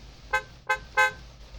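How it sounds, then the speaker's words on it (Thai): Three short car horn honks in the survival video game SCUM, evenly spaced, bright and fairly loud over a faint low engine hum, with no talking. "อันนี้คือบีบแตร"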